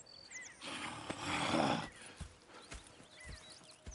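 A horse snorts and blows loudly for a moment in Red Dead Redemption 2, followed by scattered soft thuds and shuffling hoof sounds nearby.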